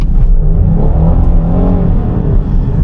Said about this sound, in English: you can feel it downshift super aggressively, and you feel the power, all 278 horsepower of the power engage